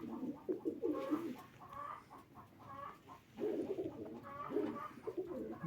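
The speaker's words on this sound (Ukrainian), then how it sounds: "Такі голубі." Tumbler pigeons kept by a breeder coo close by in soft, throaty bursts that rise and fall in repeated phrases over a quiet background, with no voices.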